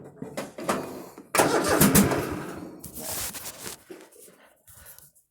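A Craftsman GT 5000 riding lawnmower engine cranks in short bursts, then catches and roars unevenly before sputtering down, suggesting a carburetor fault or need for choke; loud and close throughout.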